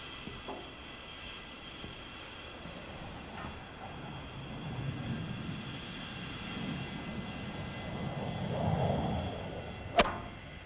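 Airplane engine rumbling during takeoff, a steady low roar that slowly builds in intensity toward the end, heard at a moderate distance with a brief sharp click near the close.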